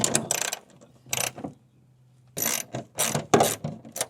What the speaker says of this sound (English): Use a ratchet instead.